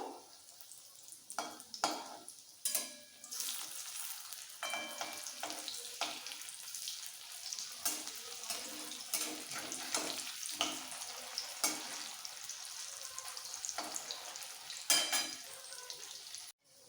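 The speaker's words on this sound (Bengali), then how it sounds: "এইভাবে একটু উল্টে পাল্টে ভেজে নিলেই হবে আর সঙ্গে সঙ্গে ভাজা হয়ে যাবে" Poppy seed and onion fritters fry in hot oil, a continuous crackling sizzle close up, broken by sharp scraping and clattering bursts as they are flipped and turned in the pan, with no talking.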